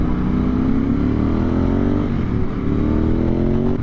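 A Ducati 996 sports motorcycle ridden along a road on a hot day gives a steady, loud, close engine drone with slowly rising and falling pitch under continuous wind rush.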